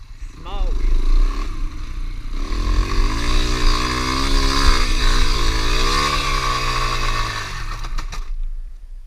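A Yamaha TTR 125 small-wheel dirt bike engine revving hard during a launch, a loud buzzing rasp that climbs and wavers in pitch, then cuts off.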